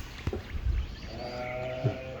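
Sheep, lambs and rams for sale at a livestock yard bleat in a few short calls, one loud near bleat early and another later, over low background noise.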